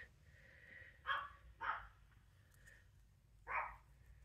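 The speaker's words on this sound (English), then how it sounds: "I don't know why she's barking" A female dog barks faintly indoors, three short, distant yaps spaced apart over quiet background noise.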